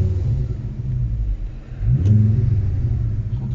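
A Ford Focus ST engine rumbles at idle and then revs up in one short burst as a test drive begins, close and fairly loud with no talking.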